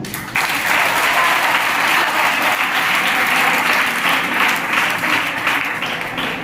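Loud, sustained applause from a large crowd at a poetry gathering in Jaipur, steady and dense throughout with no break.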